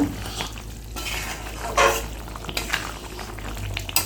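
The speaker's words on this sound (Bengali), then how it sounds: "এখানে আমি ঢাকনাটা তুলে অল্প নেড়ে দেখে নেব" Soybean curry simmers in a pan as the lid comes off and a spoon stirs it, with a bubbling, frying hiss, a clatter as the lid lifts, and a few scraping stirs nearby.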